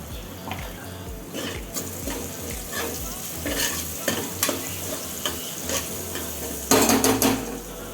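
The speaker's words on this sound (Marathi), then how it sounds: "त्यात आता चिरून घेतलेला टोमॅटो टाकून सगळे जिन्नस शिजवून घेऊया" Chopped tomato and garlic with turmeric cook in a pan with a soft, continuous sizzle, punctuated by repeated utensil scrapes and stirring clatter, ending in a louder burst of spatter; no talking.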